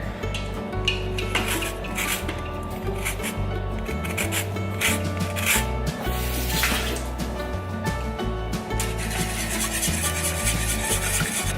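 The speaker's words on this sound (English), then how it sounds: "And then we're gonna add the zest of 1 lemon." A lemon rubbed against a zester for a high-protein breakfast lemon bar mixture, rapid close scraping rasps in an irregular rhythm, fairly quiet, with no voices.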